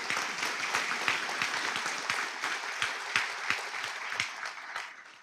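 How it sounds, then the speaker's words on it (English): A banquet audience at a school's 25th anniversary applauds, a dense, even stretch of many hands clapping with sharp individual claps standing out, tapering off at the end. "I think that deserves an applause."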